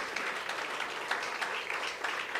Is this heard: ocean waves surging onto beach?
no